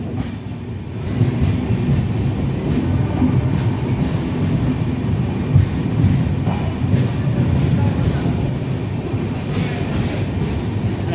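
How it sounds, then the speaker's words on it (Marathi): The Nanded–Pune Express sets off from the platform and picks up speed, with a continuous heavy rumble and rhythmic wheel clatter close up and no talking. "एक्सलरेशन हा मित्रांनो जबरदस्त एक्सलरेशन घेतलेलं आहे प्लॅटफॉर्मवरच मित्रांनो."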